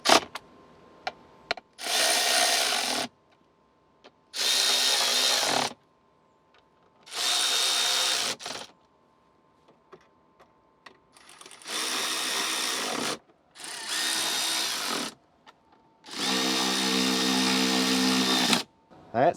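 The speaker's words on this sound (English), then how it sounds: "We're just gonna screw these back together." Power tool driving screws to fasten a Tesla Model Y center console back together, several separate whirring bursts of a few seconds each with quiet pauses between, close up.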